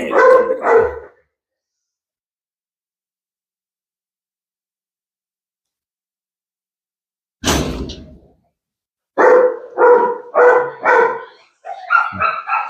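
Siberian Husky, Beagle, Doberman and Labrador puppies bark: a couple of quick barks, a long silence, one sharp yelp, then a rapid run of loud, close barks.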